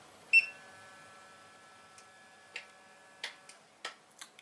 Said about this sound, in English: there was a little bit of a motor, and the little fingers on the inside as the portion rotates, passes by